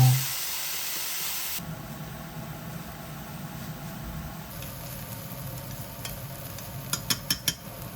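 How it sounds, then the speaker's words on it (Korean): Chopped carrot, onion and cheongyang chili stir-frying in brown rice oil: an initial loud burst of sizzle settles into a soft steady hiss, with a few sharp spatula clicks near the end. "다시 현미유를 두르고 다진 당근, 양파, 청양고추를 볶아요"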